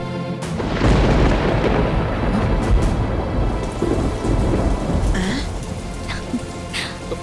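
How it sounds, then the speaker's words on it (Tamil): Heavy rain pours steadily while deep rumbling thunder rolls underneath, loud and close, with no voices. "ஐயோ மழை பெய்யுது, வாங்க ஓடிடலாம்."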